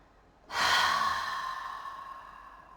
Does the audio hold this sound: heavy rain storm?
no